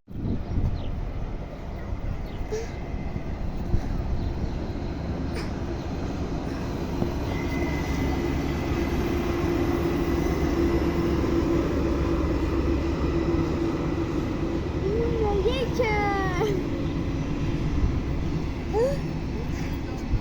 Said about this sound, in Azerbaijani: poyuz nətər gəlir.